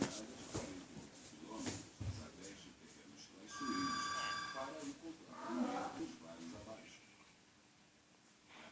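A telephone bell rings in a few bursts of bright, steady tone, faint amid background noise, while a person talks around it.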